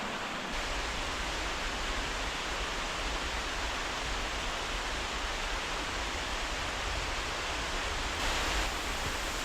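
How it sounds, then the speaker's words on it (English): Koyo waterfalls on Mount Akaboshi in autumn, a steady, loud broadband rush of falling water that holds constant throughout without pause or voices. "Here's the Koyo waterfalls,"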